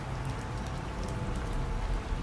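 Steady, dense rain falls with wind, a continuous even wash of drops and gusts with no break and no voices.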